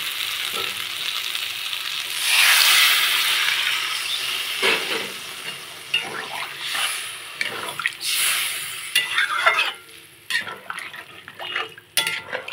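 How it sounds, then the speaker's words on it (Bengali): Water goes into an egg and carrot curry in a frying pan, hissing and sizzling in loud bursts, followed by stirring scrapes and clinks of a utensil against the pan. "দিয়ে দেবো পরিমাণ মতো জল"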